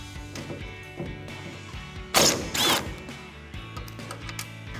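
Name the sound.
removing Phillips head screws from truck taillight with screwdriver bit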